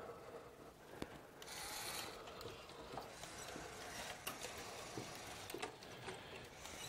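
A mechanical Turing machine model runs with faint ratcheting clicks and soft mechanical rubbing, and occasional sharper ticks over a low, steady background.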